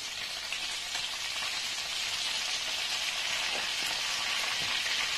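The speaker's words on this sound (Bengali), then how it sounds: "আঁচটাকে একটু কমিয়ে মিডিয়ামে রেখে ভাজবো" Cauliflower florets sizzle steadily in hot oil in a pan, a dense continuous crackling hiss that stays loud and even throughout, with no voices.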